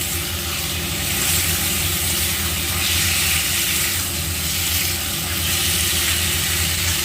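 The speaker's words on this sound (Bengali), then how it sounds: "আচ্ছা, এবার আমি দেখো এটা ভালো করে কষিয়ে দিচ্ছি এখানে পাঁচটা চিংড়ি আছে" Five prawns sautéing in a pan, giving a continuous, dense sizzling hiss that stays loud and even throughout, heard close with no talking.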